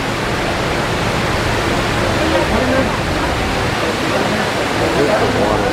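Mirage casino waterfall on the Las Vegas Strip, a steady broadband rushing roar of falling water that runs unbroken and fairly loud throughout, with faint crowd murmur beneath.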